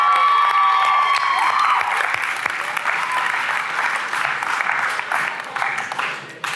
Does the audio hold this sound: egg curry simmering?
no